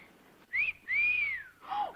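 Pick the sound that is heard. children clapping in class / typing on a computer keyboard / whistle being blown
whistle being blown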